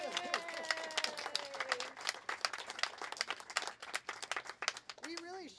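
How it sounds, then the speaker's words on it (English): An audience applauds at a talk with a Tucson poet laureate, scattered claps mixing with voices and whoops; the clapping thins and fades while people speak and cheer over it. "Let's give Rosie a round of applause."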